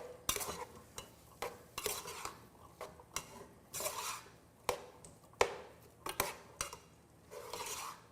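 A utensil stirs seasoning into asparagus pasta in a pot, giving repeated scraping and clinking strokes in an uneven rhythm, close and moderately loud, with no talking.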